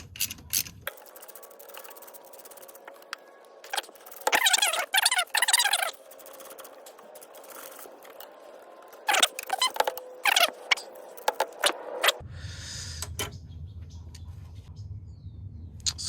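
Ratchet wrench unscrewing transmission mount nuts on a 2008-2012 Ford Escape with a 3.0L V6, heard as bursts of quick clicking in several short runs, with pauses and light handling noises between them.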